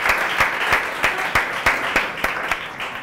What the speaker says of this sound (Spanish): vamos, un aplauso.